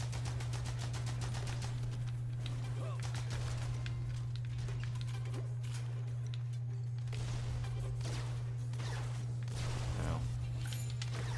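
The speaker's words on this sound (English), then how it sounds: "Burst machine gun." Burst-fire machine gun in the first-person shooter Immortal Redneck, rapid clusters of shots repeating throughout over a steady low game hum, with someone talking over the gameplay.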